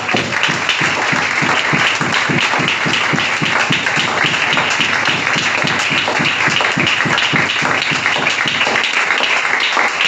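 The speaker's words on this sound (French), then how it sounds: "Nous acclamons encore très fort pour la gloire de Dieu." A church congregation at a seminar applauds loudly and steadily, close by, as many hands clap in a dense, continuous burst that lasts the whole stretch without speech.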